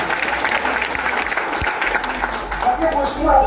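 An audience at a community meeting in Murang'a, Kenya, claps in steady, dense applause that runs throughout, with a voice audible over the clapping.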